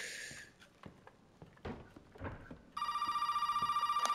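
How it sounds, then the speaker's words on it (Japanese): A telephone rings in the horror video game Resident Evil 7, a bright repeating electronic trill that starts partway through and continues loudly, preceded by faint clicks and soft footstep-like knocks. "あ、電話だ。"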